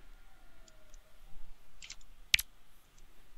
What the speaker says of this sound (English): Apologize for any excess clicking on my side.